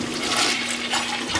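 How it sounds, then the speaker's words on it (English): Toilet flushing close by in a house during a rental property inspection, a loud rushing swirl of water that fills the whole short moment without any voices. "Flush all your toilets, make sure they're working properly."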